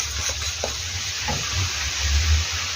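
Chicken pieces, already marinated, sizzling in a pan with added mushrooms and herbs, a steady close frying hiss with occasional stirring clatter and no talk.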